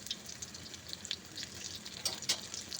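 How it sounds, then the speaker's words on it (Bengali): Pumpkin leaves frying in a generous amount of oil, giving a soft continuous sizzle with faint crackles and spatters, steady and low in level with no talking. "ধীরে ধীরে আস্তে আস্তে করে সমস্ত পাতাগুলোকে ভেজে নিতে হবে।"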